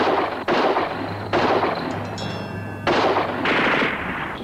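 Loud bursts of gunfire from a TV crime drama scene, several heavy volleys of shots firing close and continuously with little pause between them.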